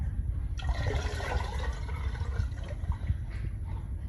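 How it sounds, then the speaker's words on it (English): Four cups of water poured into a pot to build the broth for Bun Bo Hue, a steady liquid gush that starts after a brief pause and runs to the end, close and fairly loud. "adding our 4 cups of water"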